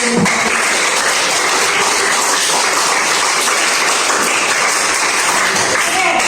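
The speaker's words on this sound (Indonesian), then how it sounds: "Tepuk tangan dulu untuk" A classroom audience applauds their tutor, loud dense clapping sustained evenly from start to finish with no pauses.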